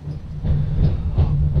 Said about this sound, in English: The train is being pulled by an electric locomotive, but gets power from big diesel generators that you can find in the first and the last carriage of the train.